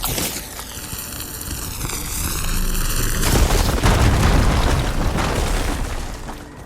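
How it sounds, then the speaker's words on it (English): A fire gleam blown up in the video game Horizon Forbidden West: a loud, broad boom rolls in about halfway through over a tonal game soundscape and sustains as a rumbling blast until the end. "Should be able to blow up that fire gleam."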